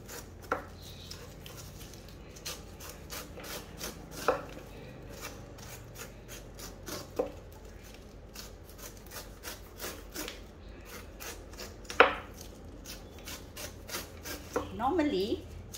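Steady rhythmic rasping strokes as a knife cuts the spiky skin off a Morris pineapple, fast repeated scraping with occasional louder knocks, a voice talking faintly in the background.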